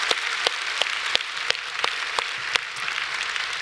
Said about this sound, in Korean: 우리 한번 격려의 박수 하겠습니다